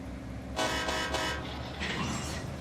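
Train horn signal in the Run 8 train simulator, heard as three short whistle blasts in quick succession followed by a fainter tonal sound, moderately loud over a low engine rumble.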